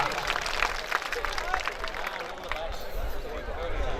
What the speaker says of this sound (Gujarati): એકવાર જોરદાર તાળી પાડી બતાવો ભાઈ મેલડી માને જોરદાર તાળીથી વાહ